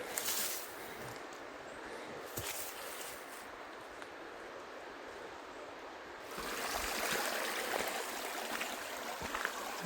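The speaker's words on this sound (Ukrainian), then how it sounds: "це, що нижче тече, це струмок" A mountain stream flows on an autumn hike in the Gorgany mountains, a steady close rushing of water throughout that grows louder partway through.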